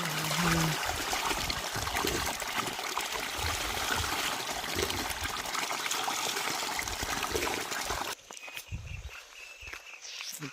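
Water gushing from a village borewell, a loud, steady splashing flow that cuts off abruptly after about eight seconds, leaving quieter ambience and faint trickling.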